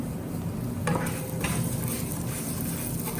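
Kalonji, fennel and other spices sauteing in hot mustard oil, giving a steady close sizzle with occasional stirring scrapes and light clinks of a pan.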